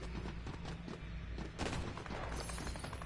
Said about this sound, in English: I hear the gunshots already